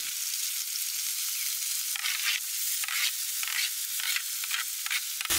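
Onions sizzle and fry steadily in hot oil with cumin, cardamom, cinnamon and a bay leaf for a dhaba-style egg masala curry, a loud continuous hiss broken by a few stirring bursts, with no talking.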